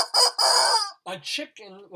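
A rooster crows loudly in a long cock-a-doodle-doo, and clucking chicken calls follow, close and clear with no talk over them.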